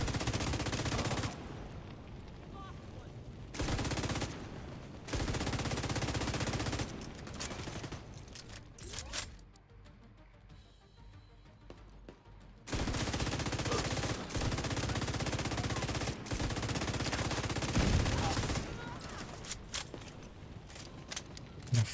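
Sustained bursts of automatic gunfire in a video game battle, loud and continuous for long stretches, cutting out briefly before resuming, with a quieter pause in the middle.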